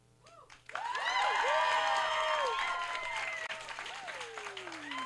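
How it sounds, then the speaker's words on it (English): Audience at a teen poetry slam applauding and cheering, a sudden swell of clapping and whoops that stays loud, with a few high voices rising above. "Keep that round of applause going for Seville"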